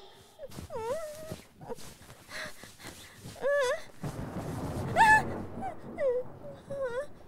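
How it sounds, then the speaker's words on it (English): A dog whimpers and whines in a series of short, rising yelps with pauses between, fairly close and clear over a soft background. "Get away from me, you dog."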